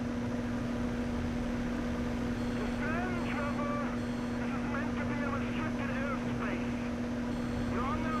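Airplane flying over Paleto Bay in the video game GTA 5: a continuous droning engine hum with a steady tone runs throughout, with faint voice-like sounds partly over it.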